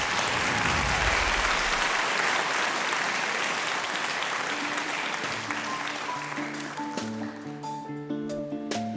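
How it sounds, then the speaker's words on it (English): A crowd at a live concert at Castel Abidjan, Côte d'Ivoire, applauds loudly to welcome the performer. The clapping thins out over several seconds as instrumental music with sustained tones comes in and takes over. "Accueillez-le avec des applaudissements nourris."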